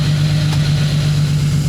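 Toyota Supra engine, a high-mileage car fitted with an unforgiving racing clutch, running steadily as first gear is engaged; a loud, continuous low droning hum holds constant throughout with no voices.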